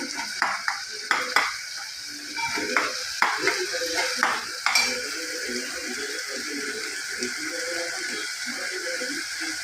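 Crushed garlic and tomato fry in a pan with cooked onion for egg bhurji, a steady close sizzle broken by a run of sharp scraping stirs in the first half, then continuous frying alone.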